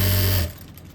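A sewing machine stitching a suit, a close steady mechanical hum that stops abruptly within the first half second, leaving quiet room tone.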